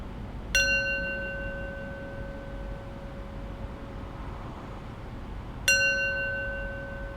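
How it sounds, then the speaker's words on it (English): A meditation bell rings twice to close practice, each strike bright and clear, leaving a long sustained hum that slowly fades against quiet room noise. "I'll close practice with 3 rings of the bell"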